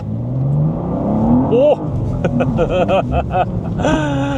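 A 3000 cc twin-turbo car with a tuned engine map pulls hard in first gear, engine rising loudly up close before shifting into a revving, pulsing pattern, with people talking over it inside the cabin.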